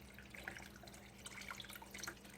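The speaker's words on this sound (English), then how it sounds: "So I'm going to pour and stir at the same time." Chicken stock trickles and splashes steadily into a pot while being stirred, with faint drips and soft clinks over a low background hum.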